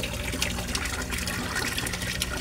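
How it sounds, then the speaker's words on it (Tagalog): An Aquaspeed submersible pump churns the water of a koi pond, producing a loud, continuous rushing gush that stays steady and close throughout. "Sa sobrang lakas niya, ang ingay-ingay ng tubig."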